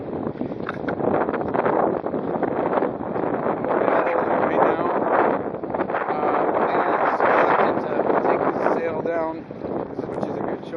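Strong, gusty wind buffets the microphone continuously while sailing a kayak on open water, a loud broadband roar that surges and eases with each gust, with a voice talking through it.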